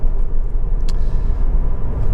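Honda Civic 1.8 i-VTEC EX with i-Shift gearbox idling, a steady low rumbling engine drone heard up close with no talk over it.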